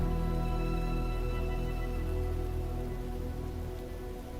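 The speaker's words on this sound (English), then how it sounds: "Raining." Steady rain patters in Microsoft Flight Simulator, a dense, even hiss of drops held over a low constant engine-like drone, fading slightly toward the end, with no talking.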